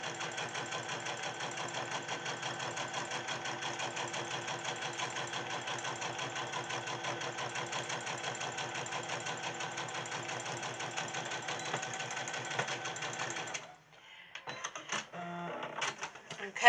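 Sewing machine stitching the bottom and side of a handmade gift bag, a steady fast mechanical whir running continuously for about thirteen seconds and then stopping, followed by light handling clatter.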